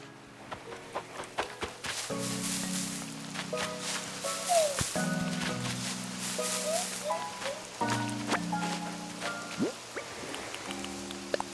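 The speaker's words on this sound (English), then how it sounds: "Thought it would have stopped raining on the islands at least." Rain falling on the islands in Animal Crossing: New Horizons, a soft steady patter with light drips, running under chiming game music and short melodic tones throughout.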